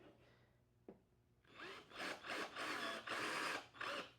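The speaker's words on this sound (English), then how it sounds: "we're going to put it down on the table over here so that we can drill a hole in it." A hand drill bores a hole through wood on a table, whirring in several rapid bursts after a brief knock, close and fairly loud.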